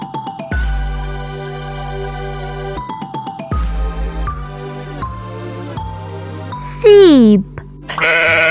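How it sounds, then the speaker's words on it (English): A sheep bleats over a bouncy children's music backing with jingling tones and a sliding whistle-like sweep, the animal call blending into the loud, continuous track. "Sheep."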